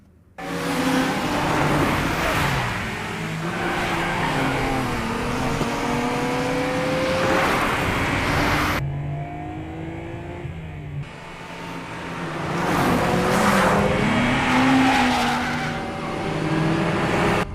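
Racing cars speed downhill with tires skidding and squealing, engines roaring and revving loudly in long sweeping passes, broken by a brief cut to quieter sound midway before the screeching resumes.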